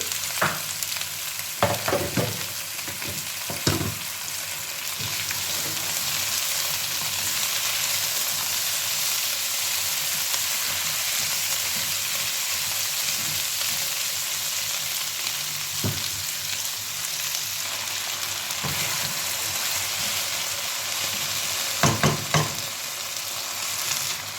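Potatoes frying in a pan give a steady, close sizzle throughout, with occasional sharper crackles and stirring clicks.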